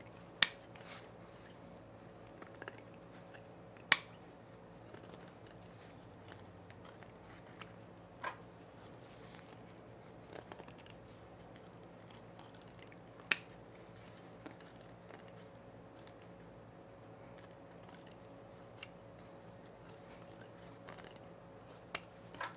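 Sparse, crisp snips of scissors trimming thick fabric corners on sewn cargo shorts, isolated clicks spaced several seconds apart over a low, steady room hum with no talking.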